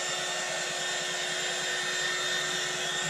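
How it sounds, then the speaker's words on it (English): A heat gun drying fresh paint blows a steady, even roar of hot air at close range, unbroken for the whole stretch with no voices. "I'm gonna put the heat gun on it."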